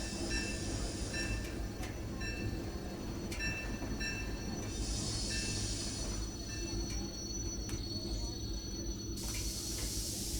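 A steam locomotive brakes in the video game Disneyland Railroad Steam Simulator, a continuous rumble of rolling wheels with high metallic squeals and hissing air, steady and close throughout.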